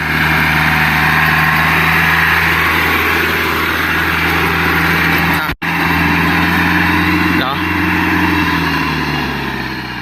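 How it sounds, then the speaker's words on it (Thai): A used farm tractor from a rice mill runs on a test drive, its engine droning loud and steady at close range with a deep low hum, cutting out for a moment partway through before carrying on. "เสียงเกียร์เสียงท้ายนิ่มครับ ไม่หอนไม่ดัง"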